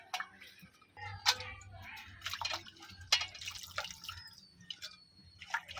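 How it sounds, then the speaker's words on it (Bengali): Bitter gourd being washed by hand in water in a kitchen, with irregular splashes, drips and soft knocks close up, moderately faint. "আমি এই যে উস্তাটা ধুয়ে নিচ্ছি সুন্দর করে"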